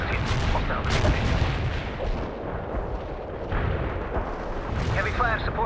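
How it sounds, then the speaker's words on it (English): Artillery barrage in the World in Conflict strategy game, a dense run of heavy booming impacts and rumbling detonations, loud and continuous, with radio voices briefly heard over it. "Commencing the barrage."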